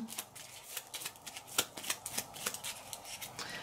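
Playing cards are handled and shuffled during a solo session of a card-based expedition board game, giving a run of crisp, close riffling flicks and snaps at an uneven rhythm, with one sharper slap partway through.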